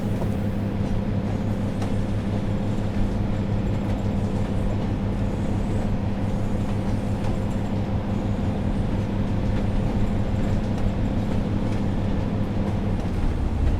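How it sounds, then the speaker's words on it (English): A newer-engined Pacer train on the Blackpool South branch drones steadily and loudly from inside the carriage, a constant low rumble with rail noise and no voices for the full stretch. "here you can hear this droning sound of the engine rather than the quite high revving of the old Leyland engines"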